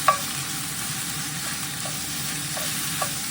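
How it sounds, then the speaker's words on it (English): Meat browns in a hot pan for rigatoni, giving a steady close sizzle with a few light scrapes as it is stirred and spread around. "Just poke this around, spread it out a little bit. Just brown it, just get it cooking."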